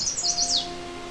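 A chestnut-sided warbler sings a quick, bright phrase of high chirping notes at McGregor Point Provincial Park on the Huron Fringe along Lake Huron, clear and moderately near over faint background hiss.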